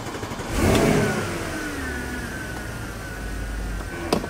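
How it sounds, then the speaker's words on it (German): A 2009 Porsche Panamera 4S engine fires up with a sharp rev that swells and then settles into a steady idle, loud and close, with a brief click near the end. "So muss so ein Auto anspringen."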